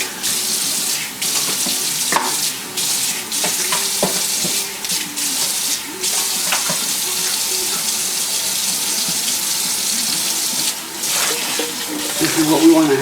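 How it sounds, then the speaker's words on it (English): Running water splashes as pork skins cut into small squares are rinsed at a kitchen sink, a steady tap-like stream with intermittent handling and sloshing, fairly loud and close. "I'm going to rinse them in water."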